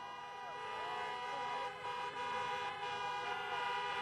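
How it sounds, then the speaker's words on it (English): Car horns honking in a noisy crowd at an outdoor campaign rally in Pennsylvania, with steady tonal honks and wavering siren-like tones sustained throughout under loud crowd noise. "Honk!"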